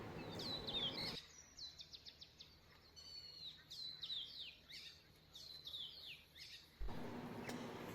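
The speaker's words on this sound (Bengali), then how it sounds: "এদিকেও কিন্তু আমরা প্রচুর পাখির আওয়াজ শুনতে পাচ্ছি, কিচিরমিচির ডাক পাখির।" Many birds chirping at sunrise by Dumbur lake, rapid repeated high tweets in short bursts, fairly close and clear over quiet background, no talking.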